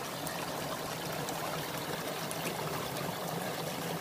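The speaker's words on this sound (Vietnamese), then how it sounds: "đây là suối nha mọi người mọi nhìn suối không thấy nước chảy không khúc này nó chảy mạnh lắm nha róc róc róc luôn đó" A stream runs strongly past rural garden land, giving a steady, full rush of babbling and splashing water that stays loud and unbroken throughout, with no voices.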